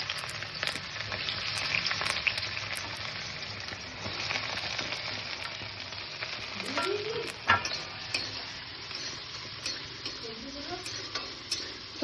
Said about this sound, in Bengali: এই কড়াই তেলের মধ্যে দিয়েছি হচ্ছে কি গাজর আর বিনস কুচি